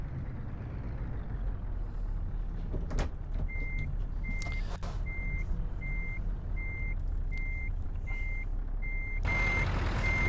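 Heavy-cargo truck in Euro Truck Simulator 2 reversing, a steady run of evenly spaced electronic backup beeps over a loud low engine drone, with a couple of sharp clanks and a hiss near the end, no talking.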